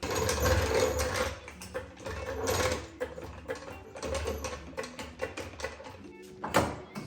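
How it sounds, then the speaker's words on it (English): A floor jack is pumped to raise the suspension knuckle on a Subaru WRX during a coilover install, with steady rhythmic mechanical clanks and ratcheting strokes close by and no speech. "The jack, in theory, is just supposed to lift the knuckle up."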